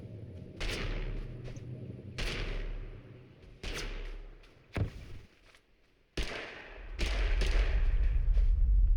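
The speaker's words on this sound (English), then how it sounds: "we've got a ton of stun grenades we can just check out" Stun grenades detonate in the video game Totally Accurate Battlegrounds (TABG): a series of sharp, booming blasts spaced a second or two apart, each with a short rumbling decay, ending in a sustained low roar.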